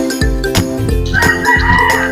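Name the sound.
Texas chickens, two months old, clucking and rooster crowing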